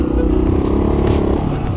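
Honda XL 500 R motorcycle engine revving hard during a wheelie attempt, a loud, steady close-up drone with the throttle held and slight pulses.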